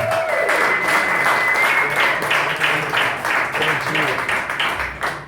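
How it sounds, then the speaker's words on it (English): Applause at a comedy night in a coffee house, a full and continuous round of clapping from the audience with some voices mingling in it, fading a little at the end. "Round of applause for Jim, guys."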